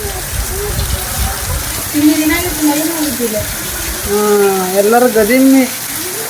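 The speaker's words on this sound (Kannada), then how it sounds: "ಮಳೆ ಬರಾಕತ್ತೈತಿ." Steady rain falls at a home in Karnataka, with water collecting indoors, making a continuous broadband hiss while a voice talks over it in short phrases.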